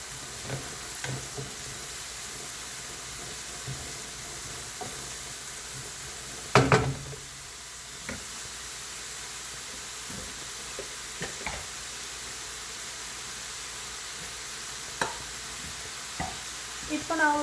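Chickpea masala with coconut being stirred and sautéed in a pan, a faint continuous sizzle broken by occasional light clicks and scrapes of the spoon, with one louder clatter partway through.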